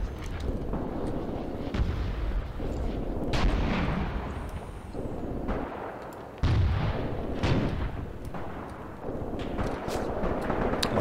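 Mortar strikes land on enemy positions in the tank-war game Graviteam Tactics, a series of heavy booming impacts and crumps at irregular intervals, some sharp and close, others rolling and distant, with no voices.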